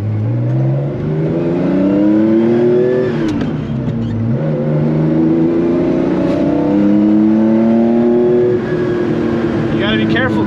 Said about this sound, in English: the car is really, really loud